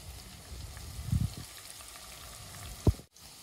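Chopped onion and green chili frying in a pan give a quiet, steady sizzle, with a few soft clinks of stirring and a sharp tap near the end.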